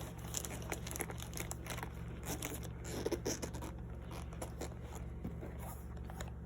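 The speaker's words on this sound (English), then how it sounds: "Maybe if I zip the zipper the right way." The zipper on a Steam Deck 512 GB carrying case being pulled open up close, giving quiet, raspy, repeated scraping strokes with light crinkling between them.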